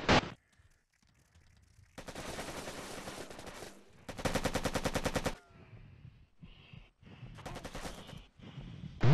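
Gunfire in the video game Operation Flashpoint: long sustained machine-gun bursts and separate shorter volleys, loud and close, broken by quiet gaps with low background noise.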